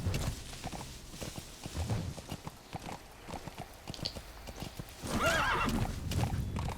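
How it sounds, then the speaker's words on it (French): A horse in Metal Gear Solid 5 trots with quick, rhythmic hoof clops, then lets out a loud whinny near the end, all close and clear. "Allez, cheval, cheval, cheval, cheval, rattrape-moi."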